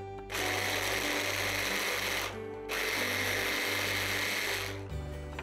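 Electric chopper whirring through ginger, onion and garlic in a kitchen, two loud sustained motor bursts separated by a brief pause, then a short final pulse, with no talking.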